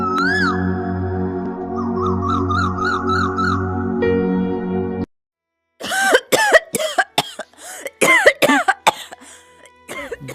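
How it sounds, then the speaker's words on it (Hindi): An elderly grandmother coughs repeatedly in harsh, ragged bursts, close and loud, after a stretch of background music cuts to silence. "आपकी खांसी बहुत बढ़ गई है"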